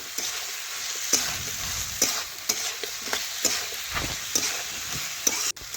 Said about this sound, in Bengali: টমেটো গলে যাওয়া পর্যন্ত আবারও একটু ভেজে নিচ্ছি